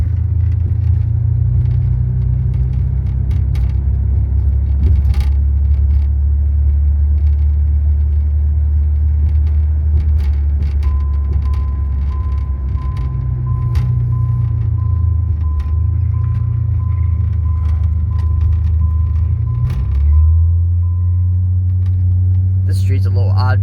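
A 1990 Eagle Premier car rolls along a one-way street with a constant, close low engine rumble and road noise that shift slightly in pitch, with no voices.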